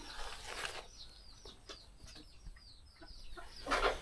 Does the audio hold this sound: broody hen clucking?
yes